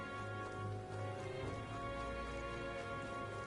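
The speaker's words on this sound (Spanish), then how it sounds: "Esta lluvia no es normal." Steady rain hisses in the video game Metaphor: ReFantazio, a dense, even patter of drops falling on surfaces with no talking over it.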